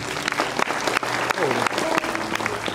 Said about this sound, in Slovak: Veľký potlesk pre pani viceprimátorku mesta Hurbanova